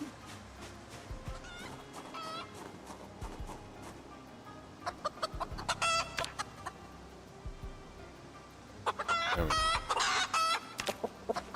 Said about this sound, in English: The chickens did not like that at all.